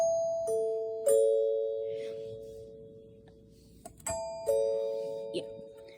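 A 1959 NuTone L-30 Chord-Tone doorbell chime rings clear, sustained tones in two spaced rounds, each a pair of strikes that ring out and slowly decay, with a faint murmur of a voice in the background.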